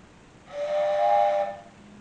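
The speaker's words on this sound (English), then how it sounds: "That is my ship's whistle." A ship's whistle gives one clear, breathy blast lasting about a second, rising in quickly, holding steady and then cutting off, loud and alone against a quiet background.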